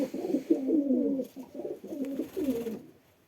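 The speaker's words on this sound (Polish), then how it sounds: "I teraz przyszła na miłość czas. Miłują się tu gołębie." Pigeons coo in soft, throaty bursts, a few rolling calls close by, then fading into quiet.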